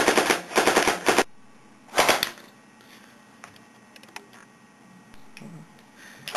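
Loud, close machine gun fire in a First World War trench battle setting, two rapid rattling bursts followed by scattered fainter single shots and clicks.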